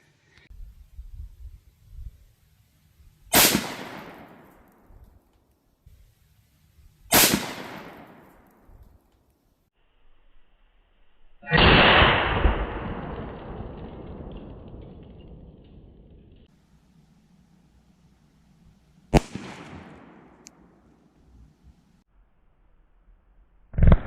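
A revolver fires .45 Colt 225 grain soft point rounds into concrete blocks outdoors: four sharp, loud shots spaced several seconds apart, one with a long rumbling echo, and no talking between them.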